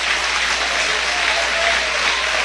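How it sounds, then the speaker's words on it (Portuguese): A church congregation claps together in steady, dense applause, close and sustained throughout with no voices standing out. "Pode dar aplausos para Jesus."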